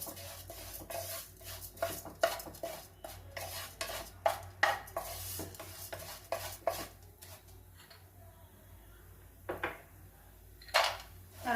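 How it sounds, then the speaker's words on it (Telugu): Flattened rice (poha) is fried in a pan until brown, with a spatula scraping and clinking against the metal in irregular bursts over a faint, low background, quieter toward the end with a few sharp knocks. "అటుకులు వేపుకోవాలండి. బ్రౌన్ కలర్లో వచ్చేదాకా వేపుకోవాలి."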